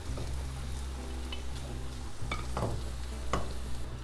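Potato mixture tumbling into a pan of frying translucent onions and green chillies, a steady close sizzle with a few sharp stirring scrapes and thuds, no talking.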